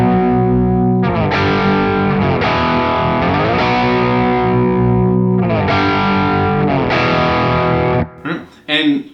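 Heavy distorted electric guitar chords from a song ring out loud and sustained, struck in a slow sequence before cutting off, with a brief voice at the end.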